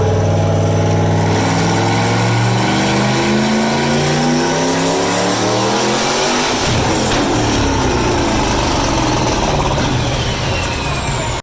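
A Corvette V8 LS engine with a supercharger revving hard on a dyno, its loud, rising roar climbing steadily through the gears before a sharp shift and continued high-rpm wail.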